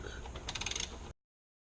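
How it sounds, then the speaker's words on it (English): A 1/4 inch torque wrench tightens spark plugs on a 2012 Dodge Charger Pentastar engine, giving a short burst of close, quiet ratcheting clicks for about a second, then silence. "this is gonna be a 1/4 inch torque wrench, and it's gonna be you're gonna be tightening them to 89 inch-pounds"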